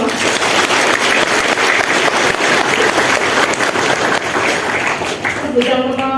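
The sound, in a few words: audience applause at civil servant swearing-in ceremony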